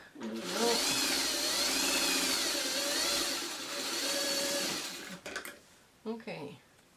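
A sewing machine runs in one long steady burst, stitching small crumb pieces of a traditional quilt block together for several seconds. It stops, then a few short handling noises follow.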